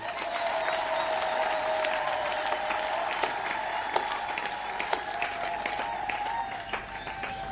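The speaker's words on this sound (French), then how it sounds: "Applaudissez pour vous-même." A congregation at a Marian sanctuary applauds during a New Year's Day Mass, a steady field of hand claps with a sustained tone running underneath.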